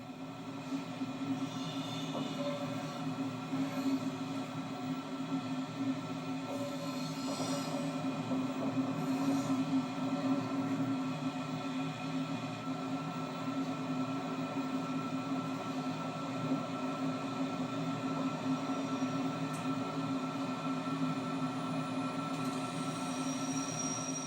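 Inside the cab of Belgian locomotive BB 1191, a steady low rumble and hum continues as the train rolls slowly at 40 km/h into Roosendaal station, with only faint squeals and no talking.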